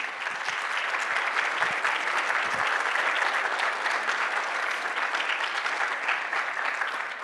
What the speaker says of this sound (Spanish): Les pido un fuerte aplauso para comenzar